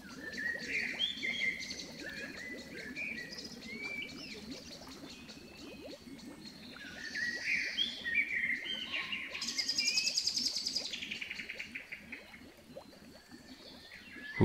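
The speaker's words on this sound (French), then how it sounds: "Les oiseaux dans les arbres qui chantent joyeusement." Birds sing in the trees, with bright chirps and trills rising in bursts over a soft, steady outdoor backdrop that sounds like trickling water.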